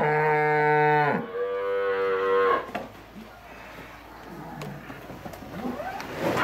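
Dairy cows moo loudly during a vaccination session, one long harmonic bellow followed by a second shorter call, with pen and handling noise in the background afterward.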